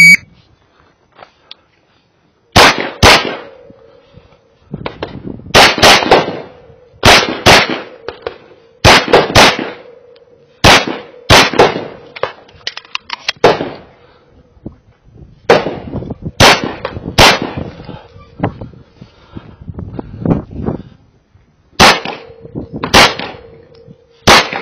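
An H&K USP Expert pistol fires through an IDPA stage, loud sharp close shots in quick pairs and bursts with short pauses between strings, and a faint electronic timer tone under them.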